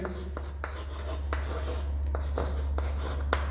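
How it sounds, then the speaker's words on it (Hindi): Marker or chalk strokes writing a chemistry question on a classroom board, a run of short scratchy taps and squeaks over a steady low electrical hum, without speech. "देखिए एक क्वेश्चन मैं यहाँ पे लिखता हूँ"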